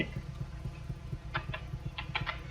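Harley-Davidson Iron 883 motorcycle in The Crew 2, ridden in the rain, gives a steady, deep, pulsing engine rumble throughout with no voices over it.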